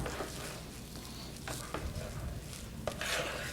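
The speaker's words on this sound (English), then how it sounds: "Stir it up. Stir it up." A celery mixture being stirred in a bowl, with soft scraping and a few light knocks of a utensil against the side, close and fairly quiet.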